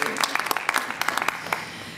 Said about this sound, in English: please give the ED an applause